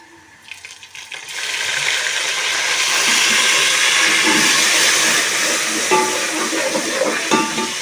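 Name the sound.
water splashed onto browned garlic and ginger in hot pan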